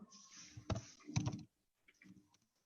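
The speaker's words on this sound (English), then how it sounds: "So I'm going to just type something out here." Someone types on a computer keyboard in a short, quiet burst of clustered key clicks and a couple of heavier taps, then a brief pause before a few softer keystrokes.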